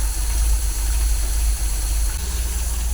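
A cold MGB engine with twin SU carburetors idles steadily with a deep, constant rumble and slight unevenness, close by, with no voices.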